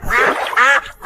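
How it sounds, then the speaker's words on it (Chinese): Ducks quack in a loud, close flurry of rasping calls, two main bursts and a third starting, as they are driven down into a flooded rice field on a crayfish and rice farm. "赶鸭子下田！"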